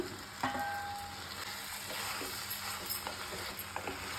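Vegetables sizzle and fry steadily in a pan as tomatoes go in, a continuous close crackling hiss with a few light stirring clicks and no speech.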